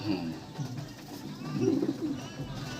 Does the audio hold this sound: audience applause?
no